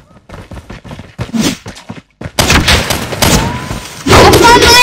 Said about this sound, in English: I'm gonna use my sniper with this one.